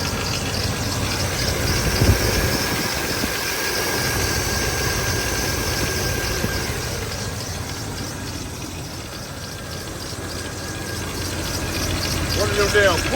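A 1989 GMC Sierra engine idles steadily with a rattling pulley adding a busy metallic chatter over the low rumble, close and continuous, while someone talks over it.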